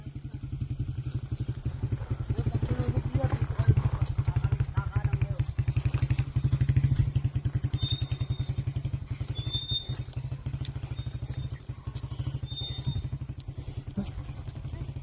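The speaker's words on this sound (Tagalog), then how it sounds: "Kaya naman ang motor ko to eh." A motorcycle engine chugs steadily and close, laboring under load climbing a steep uphill road with a rapid rhythmic throb; faint voices and birdsong come through over it.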